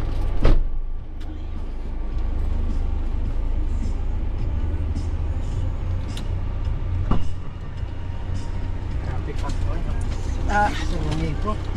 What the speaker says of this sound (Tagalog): Traffic sa San Juanico.